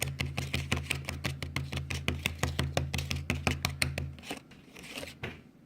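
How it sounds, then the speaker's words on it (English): Popin' Cookin' sushi candy powder being mixed with water: a steady, rapid series of close, crisp clicks and scrapes, roughly twice per second, with a low hum underneath, then slowing and fading near the end. "I'm just going to continue mixing"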